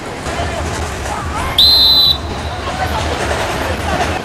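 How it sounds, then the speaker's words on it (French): A referee's whistle blasts once, sharp and shrill for about half a second, during a football match, standing out over a steady murmur of crowd noise and background chatter. "Coup de sifflet, coup de sifflet"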